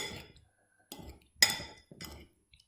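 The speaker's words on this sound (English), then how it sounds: "Dash of sesame oil. Mix them up. Toss them." Tofu salad dressed with sesame oil being mixed and tossed in a bowl, producing a few separate clinking, scraping bursts of utensils against the dish with short quiet gaps between them.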